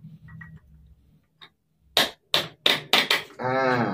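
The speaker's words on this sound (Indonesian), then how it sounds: "Lalu boleh menggunakan palu kecil." A small hammer taps on a fan bushing during repair of a Cosmos electric fan, a few faint soft knocks followed by five sharp, loud metallic strikes in quick uneven succession, then a brief buzzing noise.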